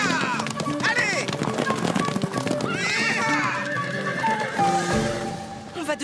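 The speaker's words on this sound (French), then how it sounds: "Viens, les chevaux vont s'emballer." Cartoon horses whinny and neigh loudly while their hooves clip-clop at a bolting gallop, with excited voices shouting over the busy, continuous commotion.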